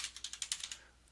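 About nine quick, light keystrokes tap out a folder name on a computer keyboard in an uneven run, close and clear, with no voices, then fading into quiet.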